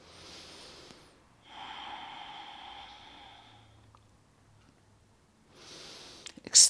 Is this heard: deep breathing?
yes